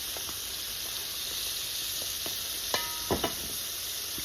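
Onion petals deep frying in a batch of hot oil, giving a steady close hiss and bubbling sizzle with a few brief clinks or stirring knocks near the end.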